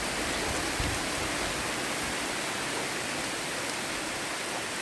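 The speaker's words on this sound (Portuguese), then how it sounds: "Olha aí a chuva!" Heavy tropical rain pours steadily in Pará, Brazil, a dense, even hiss filling the whole scene with no pauses and no voices.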